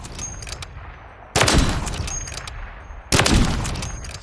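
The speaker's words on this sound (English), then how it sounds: "And then we have the Intervention firing that 408 Chi-Tech." Two loud, sharp sniper shots from an Intervention rifle chambered in .408 CheyTac ring out in Call of Duty: Modern Warfare III, spaced nearly two seconds apart, each trailing off in a long echoing tail over a constant game-ambience rumble.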